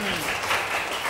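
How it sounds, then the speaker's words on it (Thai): A classroom of students claps briefly for a classmate's correct answer in a history lesson, a short burst of close applause with a teacher's voice at the start. "ตอบถูกเอาปรบมือให้เพื่อนหน่อย"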